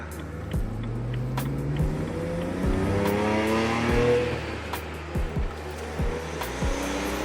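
BMW E92 engine with a new charge pipe revving and accelerating through gears, a steady rising drone with repeated shift changes and clicks, heard from inside the car without talk.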